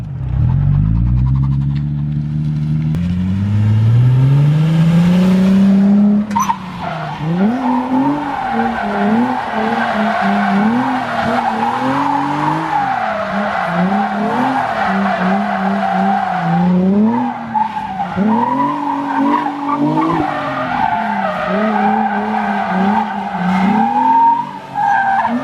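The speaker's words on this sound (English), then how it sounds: "I'm gonna kind of like try to e-brake initiate over here and just see how it feels" A Nissan Z-car, an e-brake-initiated drift, with the engine revving hard, then a long, loud, wavering tire squeal as the rear slides through the turn. No one speaks.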